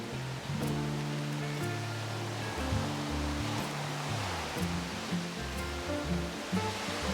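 Ocean surf on a beach at Koh Samui, a steady, soft wash of waves heard from a distance while faint music plays beneath it.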